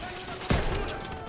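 A single sniper rifle shot in the World War II shooter game Call of Duty WW2, a sharp close bang with a short rumbling tail over a busy battle backdrop.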